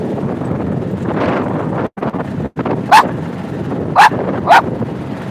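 Dogs aboard a boat on a lake on a breezy day bark three times, short and loud, over steady wind buffeting and engine rumble.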